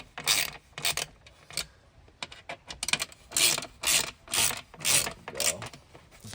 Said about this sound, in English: we're looking at a star bit socket set that you're going to need